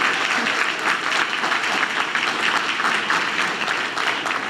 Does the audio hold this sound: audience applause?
yes